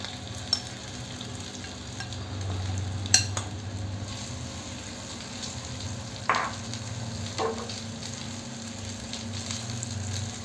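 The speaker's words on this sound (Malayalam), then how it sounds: "ചൂടായ എണ്ണയിലേക്ക് മാരിനേറ്റ് ചെയ്ത് വെച്ചിരിക്കുന്ന വെള്ളക്കടല ചേർത്ത് കൊടുക്കാം" Marinated white chickpeas sizzle in hot oil in a pan over a low flame, giving a steady, close frying hiss. A few soft clinks and stirring scrapes break in now and then, and there is no talk.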